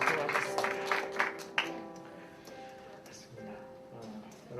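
A university student congregation at a church worship service breaks into a burst of applause and cheering for the camp teachers, loud and dense for about a second and a half before thinning out under voices and lingering tones.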